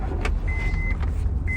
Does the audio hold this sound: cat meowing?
no